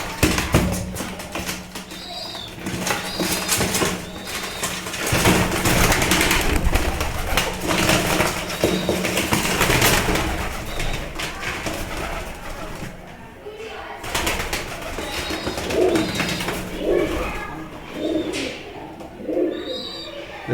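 Pigeons, one white and one grey, scuffle at close range with repeated cooing and sharp taps and flutters, while a voice talks over much of the fight.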